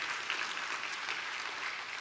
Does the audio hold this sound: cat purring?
no